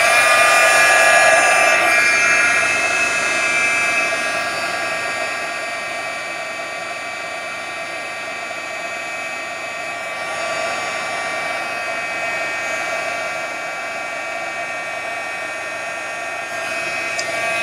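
A heat tool blows steadily while melting craft material until molten, a continuous whirring hiss with a faint high whine, close and alone.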